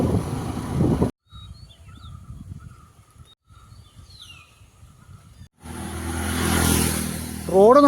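Vehicles speed along a smooth rural road near Karimban, Muluguvalli and Cheruthoni in Idukki. A loud rushing pass opens the clip and another swells at the end, with a quieter stretch of distant engine hum and birdsong between them.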